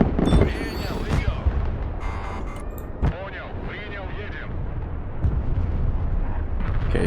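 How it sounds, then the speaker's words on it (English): Continuous bombing explosions and gunfire in the Broken Arrow multiplayer war game, with dense overlapping booms and rumble throughout, several sharper blasts standing out, and a voice talking over the battle. "he's just bombed empty ground"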